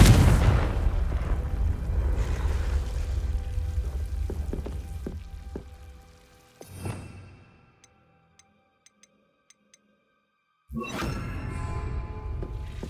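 A Confringo explosive spell is cast in Hogwarts Legacy, a fiery burst with a thump that fades into quiet ticking and dripping, followed later by another rush of noise.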